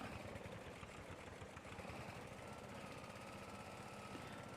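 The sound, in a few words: tractor engine climbing in Farming Simulator 22 video game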